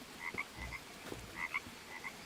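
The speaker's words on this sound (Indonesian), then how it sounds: "Buset, ada kodok." A frog croaks outdoors in a repeated run of short bright calls, about four bursts at an uneven rhythm, fairly faint over quiet background noise.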